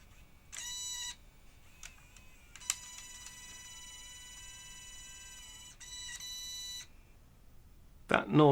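A Panasonic NV DV2000 video deck mechanism strains to drive its tape table, producing intermittent high-pitched whining tones that start and stop over a quiet background, ending in a brief louder clunk.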